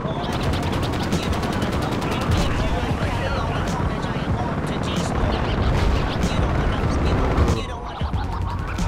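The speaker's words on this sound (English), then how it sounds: "We'll be taking care of the large, very heavy machine gun" A heavy machine gun fires in Battlefield Play4Free in loud, rapid, sustained automatic bursts that roll on almost unbroken, with a brief drop near the end before the firing resumes.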